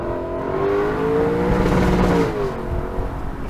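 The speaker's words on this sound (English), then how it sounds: "waiting to get a chance to rev this V8 off the rev limiter, which we're about ready to do it right now" A 2021 Lexus LC 500 Convertible's V8 revving up hard from the rev limiter, a loud close rising engine roar that swells, holds and then eases off, with no talk.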